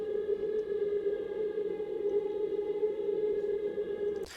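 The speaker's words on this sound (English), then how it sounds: "And then we added this Graves Atmosphere Voices in My Head sound" The Graves Atmosphere Voices in My Head sound plays as a droning, choir-like tonal pad with a steady pitch and airy texture, continuous and moderately quiet before cutting off abruptly.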